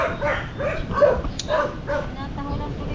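A dog barking in repeated sharp yaps at moderate distance, roughly five or six barks in quick succession, with people talking underneath.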